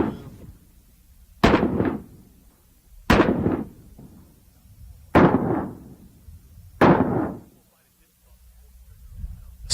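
A handgun fires four sharp, loud shots spaced about two seconds apart, each followed by a short reverberant decay, with quiet pauses between them.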